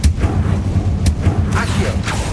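A Confringo blasting spell cast in Hogwarts Legacy, short loud booming bursts and crackling impacts over a low rumbling bed, close and forceful.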